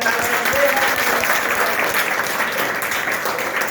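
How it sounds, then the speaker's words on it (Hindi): An audience at a police recruitment coaching talk breaks into continuous applause, dense and steady for several seconds, with a faint murmur of voices mixed in. "तालियां"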